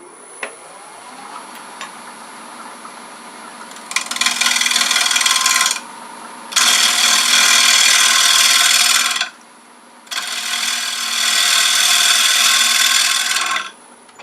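Wood lathe turning a paten with a bowl gouge, the cutting starting after a quiet motor hum and coming in three loud, rough, scraping bursts of several seconds each, separated by short pauses.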